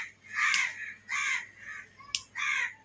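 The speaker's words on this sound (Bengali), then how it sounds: "কাউয়া ডাকতেছে" Crow cawing close by outdoors: four loud, harsh caws in a steady rhythm, with a couple of sharp clicks between them.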